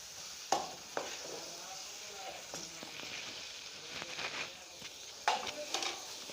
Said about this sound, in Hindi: अब इसको अच्छी तरह से टमाटर में मिक्स कीजिए।